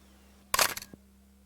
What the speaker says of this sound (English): Whenever you're ready, click your shutter.